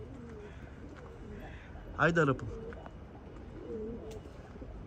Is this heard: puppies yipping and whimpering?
no